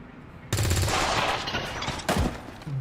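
Video game gunfire in Dragon Age comes as two sharp, loud bursts of rapid shots, the first lasting about a second and the second shorter, with faint background sound between them.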